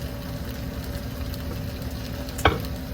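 Turkey fries steadily in a pan, a continuous close sizzle with one brief clink near the end.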